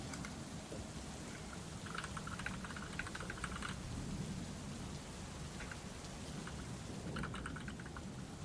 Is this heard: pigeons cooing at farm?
no